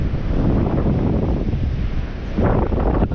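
Large ocean waves break against a rocky shore at a rock-fishing spot, a loud continuous roaring wash with heavy wind buffeting the microphone and a fresh surge near the end.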